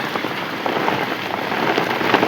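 Heavy rain pours steadily, a dense continuous hiss of drops pattering on surfaces nearby, with no voices.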